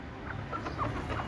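A four-year-old country hen clucks softly a few times over a steady low background hum, the short calls fairly faint and spaced out.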